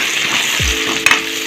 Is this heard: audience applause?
no